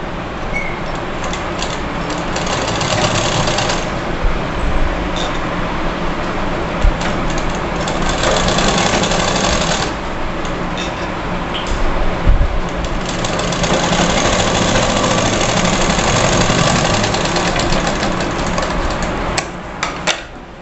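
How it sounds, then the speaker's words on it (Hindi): Sewing machine stitching the fabric of a frock for a 7-8 year old girl, a steady continuous mechanical hum and rattle running throughout at close range with no speech. "यहाँ से हम सिलाई लगाएंगे"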